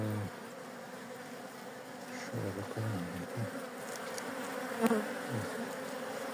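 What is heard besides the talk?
honeybees buzzing in hive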